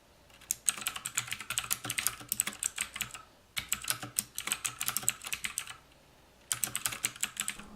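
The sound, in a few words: typing on TOMOKO 87-key mechanical gaming keyboard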